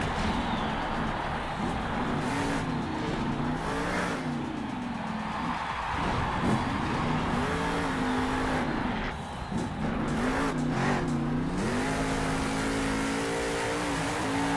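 A monster truck engine revs hard through a Monster Jam freestyle run, roaring loudly and rising and falling in pitch with repeated throttle bursts over constant crowd and arena noise.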